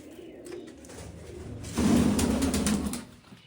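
Pigeons coo softly nearby, a low throaty burble rising in the second half over faint background noise.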